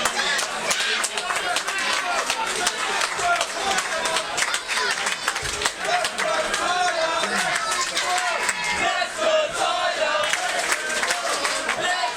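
A wrestling crowd at a Kamikaze Pro show cheers and claps dense, rapid applause after a Zack Sabre Jr. vs Tyler Bate match, with scattered shouts and a constant roar that lasts the whole stretch.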